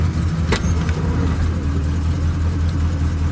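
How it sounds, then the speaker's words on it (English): A small-block engine idles roughly in gear, a steady low, uneven rumble running throughout with a brief sharp click early on and no voices. "So that idle, it's all right till you drop it in gear."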